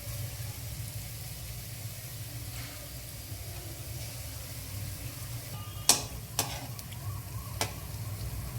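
Hot oil sizzles steadily as banana sweet bondas fry, a soft constant bubbling hiss under a low background hum, broken near the end by a few sharp clinks.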